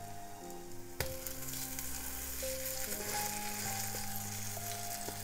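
Cheesy chicken fritters, or pakoda, fry in oil over low heat with a continuous bright crackling sizzle, starting with a sharp clack and carrying faint tonal hums beneath; no talking.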